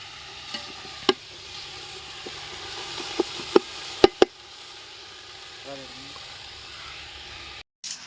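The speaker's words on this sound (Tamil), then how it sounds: "வெங்காயம் தக்காளி நல்லா பொன்னிறமாக வதங்கணும்." Onions and tomatoes sautéing in a pan until golden, a steady soft sizzle with a few sharp clicks and scrapes of a utensil stirring against the pan.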